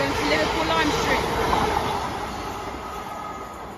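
A train passes through Sandwell & Dudley station bound for Liverpool Lime Street, a steady broadband rumble of wheels and rolling stock that is loud at first and eases slightly toward the end.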